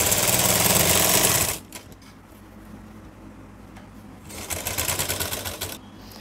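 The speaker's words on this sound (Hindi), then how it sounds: "सीधे हिस्से के ऊपर हम अपने फैब्रिक को इस तरह से सीधा रखेंगे और इसके ऊपर हम सिलाई लगा लेंगे।" A sewing machine stitches blouse fabric in a close, loud, steady whirring run for about a second and a half, then falls quiet before a second, softer burst of stitching.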